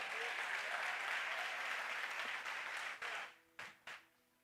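A church congregation applauds in a dense, continuous burst of many hands, then the clapping breaks off into a few scattered final claps before quiet.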